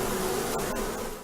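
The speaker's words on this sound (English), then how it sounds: "Therapists claim they use energy created by bees flapping their wings." Bees buzzing as their wings beat during a bee-sting therapy session, a steady close insect hum running unbroken through the short moment, with a couple of faint brief ticks over it.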